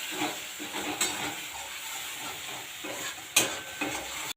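White mustard paste and a little Amul curd fry in oil in a pan, sizzling steadily and close while being stirred, with a couple of sharp utensil clinks against the pan.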